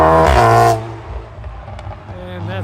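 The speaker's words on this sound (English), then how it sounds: "this loud exhaust has been going back and forth up here prior to the match" A car with a loud exhaust passes near a football match between Bragadense and Vitoria, a strong engine roar at the start that fades into crowd and ambient noise.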